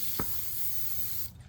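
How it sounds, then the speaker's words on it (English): A single short burst of brake cleaner aerosol sprayed onto the metal surface of a vintage Bobcat 100 excavator, a close sharp hiss followed by a longer soft hissing wash, with no voices. "we'll spray some brake clean on it and then just wipe it down"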